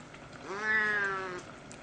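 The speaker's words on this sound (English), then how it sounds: "That was hi in cat language." A pet cat gives one drawn-out meow lasting about a second, close and clear against a quiet room with no talking.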